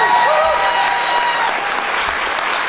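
An audience at a Bristol open mic music competition applauds a band of fourteen-year-olds, a loud, even wash of clapping that holds steady throughout.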